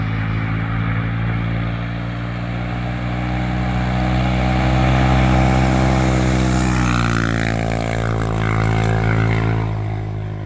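A loud, steady sports quad engine with a full HMF exhaust drones and revs continuously, with the pitch rising and shifting midway, close and unbroken.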